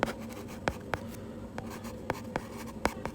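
Chalk or marker writing on a board in a chemistry classroom, a series of sharp taps and short scratchy strokes spaced irregularly over a steady low room hum, with no talking.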